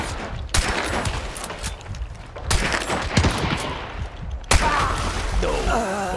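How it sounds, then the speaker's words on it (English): Gunfire in a game: bursts of sharp shots and rapid automatic fire, close and loud, breaking up a noisy rumbling background over several seconds. "We're getting shot at!"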